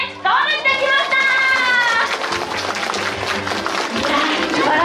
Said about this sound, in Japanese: 端まで行ったら大きな拍手をお願いします